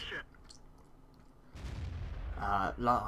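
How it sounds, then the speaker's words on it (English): Tank cannon shots fired at a KV-1S in World of Tanks, heavy booming blasts rising into a sustained rumble late in the clip, with sharp metallic ringing impacts near the end. "I'm unloading shots into KV-1S."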